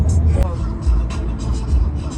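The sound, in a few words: car driving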